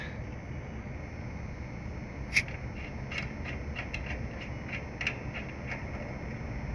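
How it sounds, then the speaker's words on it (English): A valve core tool ratchets and clicks as it turns against a refrigerant valve core on an HVAC system, a run of small, sharp mechanical ticks over a steady background hiss. "I'm pushing on it and turning at the same time to back that valve core out."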